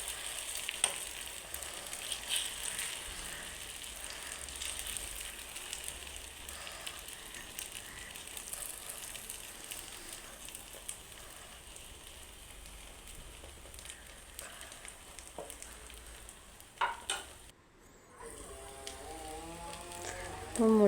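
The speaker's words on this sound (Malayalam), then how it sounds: "നമുക്കൊരു ഓംപ്ലേറ്റ് പോലെ ഇത് നമുക്കൊന്ന് പൊരിച്ചെടുക്കണം." Beaten egg mixture frying in a pan like an omelette for a bread sandwich, a steady soft sizzle throughout with occasional utensil clatter near the end.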